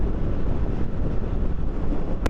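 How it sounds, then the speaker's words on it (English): Steady wind buffeting the microphone while riding a Triumph Tiger 900 Rally Pro motorcycle, a continuous loud rushing roar with no talk. "A bit windy up here today, guys."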